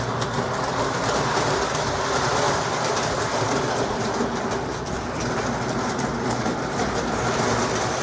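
A Lionel O-gauge model train runs steadily along its track, giving a continuous close rattling hum with a faint clickety texture and no talking.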